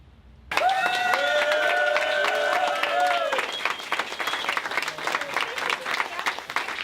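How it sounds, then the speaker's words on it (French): Audience applause at a volunteer association's tenth-anniversary celebration, loud dense clapping breaking out suddenly and sustained throughout, with cheering and a shrill whistle-like cry early on over the crowd. "applaudissements également à l'ensemble des bénévoles"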